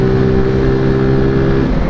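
A Zontes 125 Scrambler X single-cylinder engine drones loudly and steadily while riding, a close, continuous hum at constant revs with wind rush and no talking.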